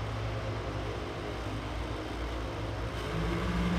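A top alcohol funny car launches in drag racing elimination, producing a dense, continuous, loud engine roar that holds steady and swells slightly toward the end, with no talk.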